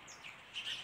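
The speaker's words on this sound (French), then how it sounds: "Et ces oiseaux qui chantent." Small birds sing outdoors on an autumn day, a few faint, high chirps and twitters drifting over quiet background air, brief and somewhat distant.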